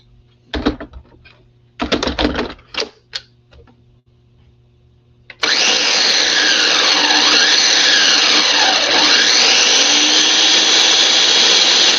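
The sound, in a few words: blender blending pesto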